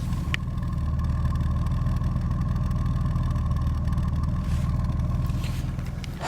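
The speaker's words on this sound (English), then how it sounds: "Listen to this exhaust." A Chevy Citation's exhaust rumbles steadily at idle, a low, throbbing engine note heard close and continuous with no talking over it.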